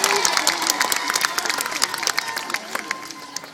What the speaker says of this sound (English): Let's all give him another round of applause.